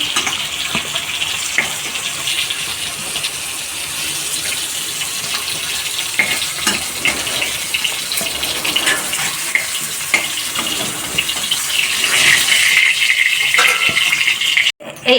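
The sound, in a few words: pointed gourd (potol) frying in oil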